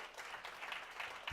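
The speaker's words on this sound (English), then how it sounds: "So, round of applause." Brief, fairly faint round of applause from an audience at a Kubernetes tech meetup in Toronto, a steady patter of claps with no voices on top.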